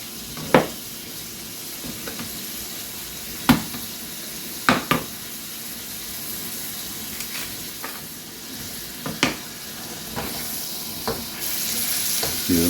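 Ground meat sautéing and browning in a pan for a cheeseburger pizza, a soft continuous sizzle with occasional clinking stirs and scrapes, close and moderately quiet, no speech.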